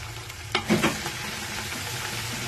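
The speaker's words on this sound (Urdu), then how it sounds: "ابھی جو ہے میں اس میں ادرک لہسن پیسٹ ڈالوں گی۔" Ginger garlic paste hits hot oil with browned onions, a steady sizzle that swells briefly into a louder crackling burst before settling back to an even fry.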